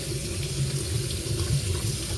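A tap runs cold water steadily, splashing close by into a sink in a constant, even stream.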